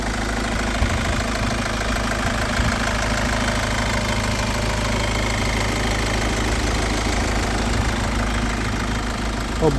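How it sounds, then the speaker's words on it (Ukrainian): A crossover's engine idles steadily at a used car market, a low even rumble with a fine rhythmic knock, continuous and close, with no talking. "Зверніть увагу, як працює двигун."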